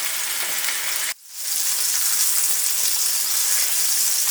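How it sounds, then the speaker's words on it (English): Bacon weave sizzling and crackling under a bacon press, a loud steady hiss of frying grease close by, briefly dropping out for a moment before returning at full strength. "will start to sizzle, and you'll start to see some grease around the sides"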